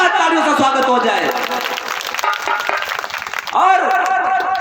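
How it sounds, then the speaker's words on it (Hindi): A crowd at a Bharatiya Dalit Panther rally in Pasgawan claps loudly to welcome a speaker, the applause running beneath a strong voice talking over it. "एक बार ऐसे शेर के लिए जोरदार तालियों से स्वागत हो जाए।"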